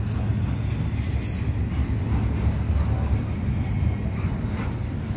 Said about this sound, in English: So two Kansas City Southern locomotives on this train.